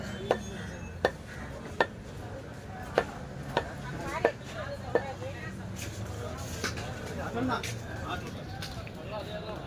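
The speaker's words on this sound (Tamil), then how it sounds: "அக்கா வந்தாங்க களி கிண்டிட்டு இருக்காங்க" Kali, a thick millet porridge, is stirred in a pot. Sharp wooden knocks strike the pot in a steady rhythm about every second, fading after a few seconds, with murmuring voices and background noise underneath.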